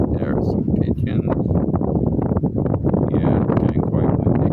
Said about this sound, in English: Yeah, it's getting quite windy.